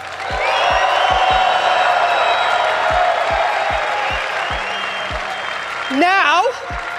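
Audience at a live motivational talk bursts into loud, sustained applause with cheers and whoops, a dense wall of clapping that swells near the end with a rising shout.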